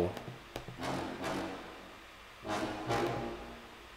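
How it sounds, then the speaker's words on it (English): Short, punchy brass staccato notes hit in bursts in a grime beat, a few quick accented stabs followed by a pause and two more loud blasts. "Some kind of brass staccato."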